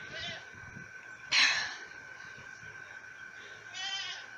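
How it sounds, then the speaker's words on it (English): A goat on a farm bleats a few times among cows: a short call, then a louder sharper bleat, and a longer wavering one near the end, moderately close with quiet outdoor background between. "The goat is warning us"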